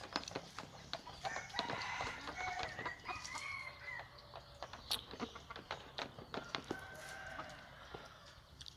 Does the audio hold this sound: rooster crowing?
yes